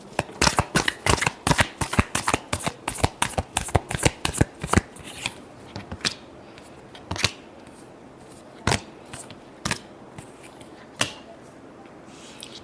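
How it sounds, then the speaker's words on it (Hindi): Tarot cards are shuffled by hand for a weekly Aquarius reading: a quick run of crisp riffling flicks for about five seconds, then sparser single slaps and snaps, close and clear with no talking. "Last shuffle."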